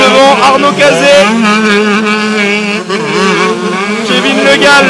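Motocross bikes racing in a Juniors and Espoirs round of the 24MX Tour at Glenac, with loud two-wheeler engines whining and revving, pitch rising and falling continuously as several machines pass close by.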